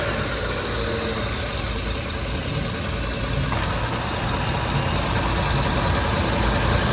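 Ford F-150 truck engine running at idle, a steady, loud, broadband mechanical drone close by with no talking, though the moment of starting is not distinct.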